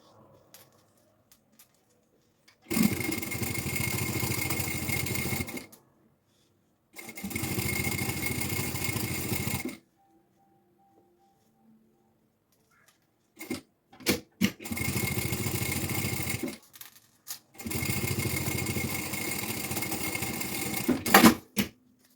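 A sewing machine stitches the exterior seam of a preschool backpack in four separate bursts of steady whirring, close and clear, with quiet handling clicks between runs and no talking.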